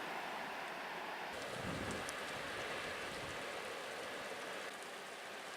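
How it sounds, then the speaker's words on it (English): Spray Falls pours off a sandstone cliff into Lake Superior at Pictured Rocks, Michigan: a faint, steady rushing wash of falling water heard from a ledge above, with a slight surge partway through. "This is easily one of my top 10 favorite waterfalls that I've ever seen."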